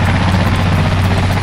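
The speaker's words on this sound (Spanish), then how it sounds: "Es parecido, Sammy. Es una avioneta" A small propeller airplane engine drones at a steady low pitch with a strong, even hum and buzzing overtones, loud and continuous with no speech.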